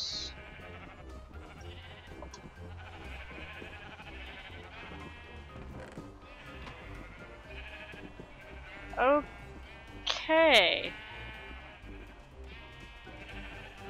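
Sheep bleat in the Minecraft-based game ShadowCraft, two wavering cries around the middle and end over steady game background noise and music, with a brief spoken word.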